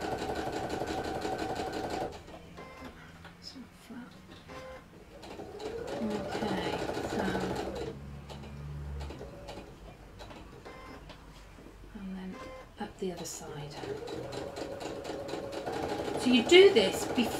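A sewing machine top stitching to close a fabric mug bag, running in bursts of fast whirring stitches that start and stop, with a person talking between and over the runs.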